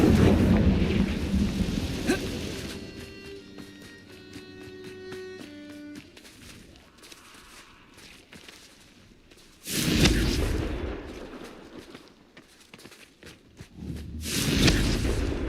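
Confringo fire spell explosions in the video game Hogwarts Legacy: a booming blast rolls into a rumbling tail, then tonal magical chimes, followed by two more heavy bursts, loud and close.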